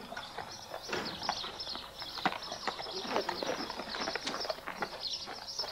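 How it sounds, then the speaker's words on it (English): A horse walks with an irregular series of hoof clip-clops that sound fairly close, mixed with faint birdsong and background noise. "I can feel the horse move"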